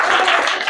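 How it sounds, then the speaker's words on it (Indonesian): Brief burst of applause for a primary school class 5D in a classroom, dense clapping from many children heard close and steady for under a second. "tepuk tangan untuk kelas 5D"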